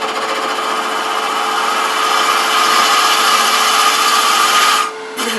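A wood lathe spins a large cherry wood box while a cutter works the surface. It makes a loud, steady whirring hiss with a faint tonal hum, then cuts off sharply near the end.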